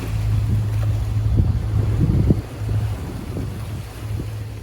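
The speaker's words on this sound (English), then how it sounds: "Quite a lot of white caps showing the strength of the wind. It's a force 4 basically." On a sailboat in French Polynesia in a force 4 wind, wind buffets the microphone with a steady rumble while waves slosh and splash against the hull in uneven surges.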